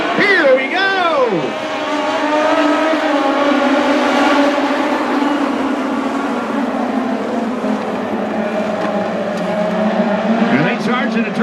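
Legends race cars charge off the turn under a green flag at Fix It Forward Speedway in a loud, sustained roar of engines that sweep up in pitch as they pass, with a voice talking over them.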